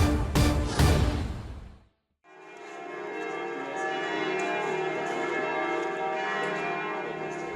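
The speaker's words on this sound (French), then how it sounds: "Les cloches de la basilique de la Résurrection ont sonné à Jérusalem" Church bells of the Basilica of the Resurrection in Jerusalem, a few loud clanging strikes, a brief silence, then a long ringing peal with sustained overlapping tones.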